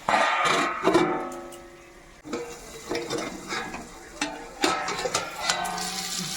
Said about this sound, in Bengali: এবার আর একটু ভাজা হলেই হয়ে যাবে।